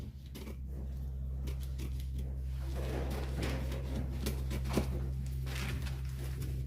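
Quiet snipping and rustling of scissors cutting through fabric, irregular crunches over a steady low hum, close by.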